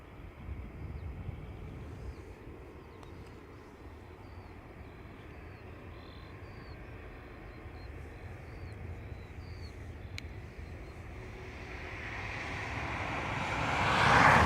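An Airbus A321neo jet lines up at Dublin Airport, its engines giving a low, steady rumble from a distance that swells into a louder roar as the clip ends, with no talking.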